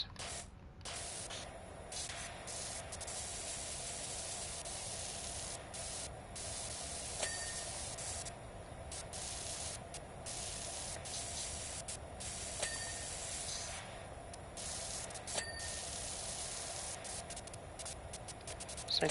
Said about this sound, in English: I probably shouldn't just spray that with water willy-nilly.